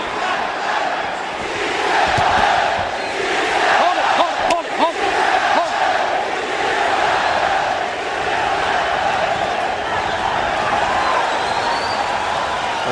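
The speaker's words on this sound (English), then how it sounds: "The crowd certainly seemed happy with the results from round 1." A boxing arena crowd roars and cheers between rounds of a pro fight, a dense, steady wash of many voices with a few brief sharper bursts partway through, continuing loud throughout.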